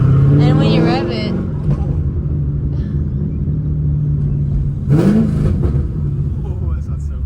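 A straight-piped, cammed C5 Corvette engine idles with a loud, lumpy rumble up close, then briefly rises in a rev around the middle before settling back, while people talk over it.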